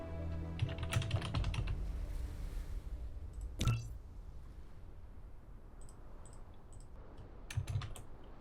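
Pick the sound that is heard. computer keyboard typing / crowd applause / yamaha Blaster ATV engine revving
computer keyboard typing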